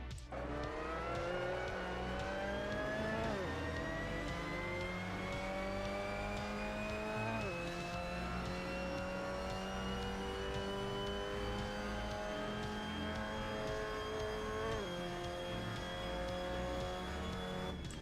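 A Mazda MX-5 Cup race car engine in Assetto Corsa at Hockenheimring revs steadily upward, with brief drops at gear shifts around every few seconds, loud and continuous.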